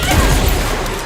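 A gunshot in a video game: one short, loud burst of firing that lasts about a second, with no talk over it.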